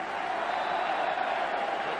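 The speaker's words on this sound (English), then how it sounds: "Applause for Shearer going off" A football crowd at Aberdeen's ground applauds Shearer as he leaves the pitch, a distant, steady wash of clapping and crowd noise with no pauses.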